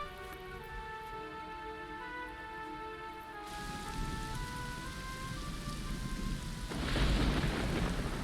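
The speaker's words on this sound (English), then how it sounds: "Rain is cool." Rain and a thunderstorm in Dragon Quest XI: steady rainfall hisses under a sustained musical tone, then grows heavier with a deep rolling rumble of thunder near the end, no speech.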